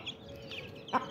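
Soft clucking from chickens close by, a few short chirping calls and one louder cluck near the end.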